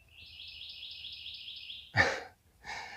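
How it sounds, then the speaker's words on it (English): Birds calling outdoors: a faint, steady high chittering trill for about two seconds, then two louder, rougher chirps up close. "we're back out here with the birds"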